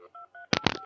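Telephone DTMF dialing tones placing a call, a quick run of short beeps followed by a louder burst of noisy clicks, all within under a second.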